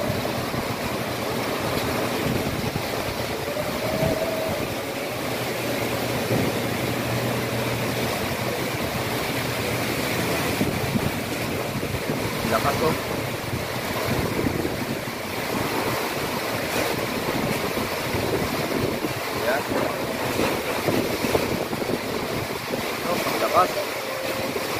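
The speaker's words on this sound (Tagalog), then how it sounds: "Sumabay na yung lakas ng ulan at saka lakas ng hangin" Typhoon wind roars and gusts continuously with a steady wash of heavy rain, loud and enveloping throughout.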